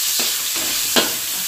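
Meat frying in hot oil for pork fried rice, a loud, steady close sizzle that fills the whole span, broken by a few soft stirring scrapes and one sharper clatter.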